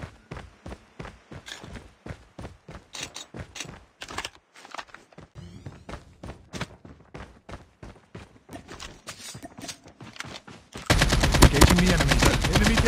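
Rapid bursts of automatic gunfire in Call of Duty Mobile, repeating in close, punchy rhythmic volleys, ending in a dense, loud barrage.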